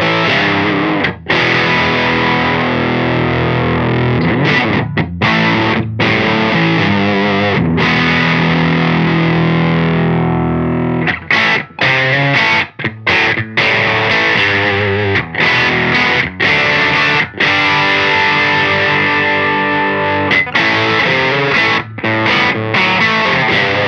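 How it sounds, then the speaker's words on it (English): An electric guitar runs through the fuzz setting of a Hologram Chroma Console pedal, giving a thick, saturated, buzzy tone across continuous loud strummed and sustained chords with short choppy breaks, and no voices. "This next one is fuzz."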